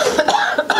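A person coughs during a school committee meeting, a loud, close burst of several rough, rapid hacks packed into under a second.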